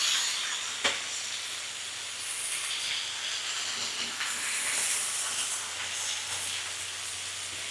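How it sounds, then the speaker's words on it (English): Thin strips of beef searing over very high heat on a cast iron griddle produce a steady hissing sizzle, with one sharp knock near the start and no voices. "because the beef is cut into thin strips, it's not going to take very long to cook on this very high heat"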